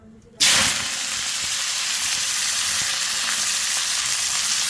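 Bitter gourd drops into hot oil with a sudden loud burst of sizzling, then a steady, close, bright frying hiss holds for several seconds with no talking.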